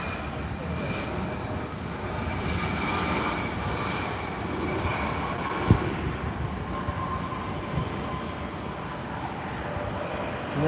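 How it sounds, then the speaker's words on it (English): An Embraer E175 jet airliner arriving from Reno slows on the runway after landing, a steady, broad engine roar holding at moderate loudness with no talk over it. "This one is the E175 that's coming from Reno, Nevada."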